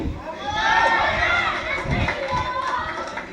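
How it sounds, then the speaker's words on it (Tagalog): A crowd shouting and chattering together in a steady, loud roar of many overlapping voices, with no single speaker standing out. "Sigawan naman yung mga ulolo."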